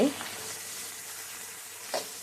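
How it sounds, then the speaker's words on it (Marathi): Washed coriander leaves are sautéed in a kadhai over a tempering, with a soft continuous sizzle and a few louder stirring scrapes at the start and near the end. "आता आपण ही धुतलेली कोथिंबीर छान अशी कढईमध्ये परतून घेत आहोत"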